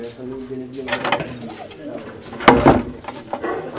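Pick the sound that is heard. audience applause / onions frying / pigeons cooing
pigeons cooing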